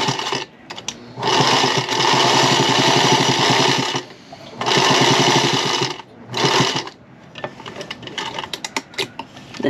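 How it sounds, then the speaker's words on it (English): A Harbor Freight sewing machine runs in loud, steady bursts of rapid stitching on make-up wipe fabric, pausing briefly between runs, with small mechanical clicks in the gaps. "let's take this sewing machine and see how it ends up"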